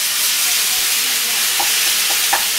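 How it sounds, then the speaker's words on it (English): Ground meat fries in a pan with a steady loud sizzle, while a flat wooden spatula breaks it up with a few soft scraping taps. "I like this flat wooden spatula. Does a nice job of breaking it up."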